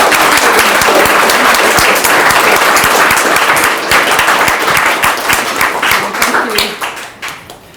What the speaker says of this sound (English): round of applause for Shabna